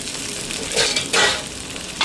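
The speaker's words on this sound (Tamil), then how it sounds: "இப்போ பாருங்க, வெங்காயமெல்லாம் நல்லா வதங்குது" Small onions, curry leaves and dried red chillies sautéing in hot oil give off a steady close sizzle, with brief louder bursts of crackle as they are stirred; no voices.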